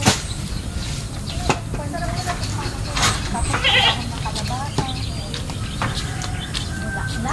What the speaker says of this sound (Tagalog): Galing yung kambing ko sa cellphone.